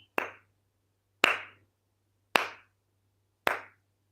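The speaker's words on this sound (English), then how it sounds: "I'm clapping" Four sharp, isolated hand claps ring out at roughly one-second intervals, each crisp and close with a short decay, over a faint low hum and no other sound.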